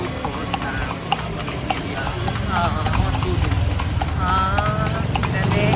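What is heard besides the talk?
horse hooves clip-clopping, pulling a kalesa carriage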